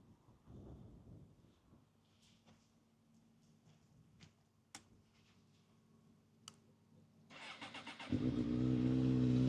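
A Suzuki GSR600 motorcycle engine idles quietly with a steady low hum and a few sharp ticks, then surges abruptly into a much louder, fuller roar near the end.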